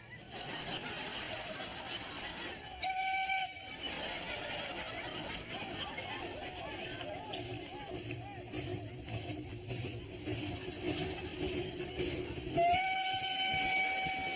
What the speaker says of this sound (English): There were more steam trains going up and down